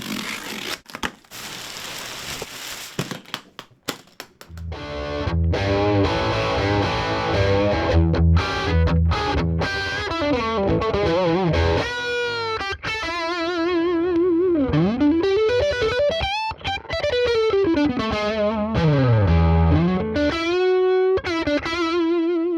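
Heavily distorted Epiphone Les Paul electric guitar, unmodified, plays loud chords and bending lead lines, preceded by a few seconds of scratchy handling noise.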